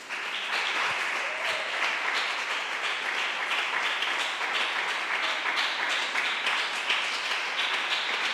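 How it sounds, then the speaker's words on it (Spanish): A church congregation claps loudly and steadily in praise during a sermon, a continuous dense roar of many hands lasting throughout without letting up. "¿Cuánto le dan un fuerte aplauso al Señor?"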